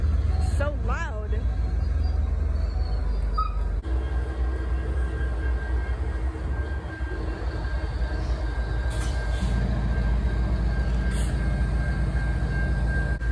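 A train rumbles steadily past close by, with screeching metallic wheel squeals and a low continuous roar throughout.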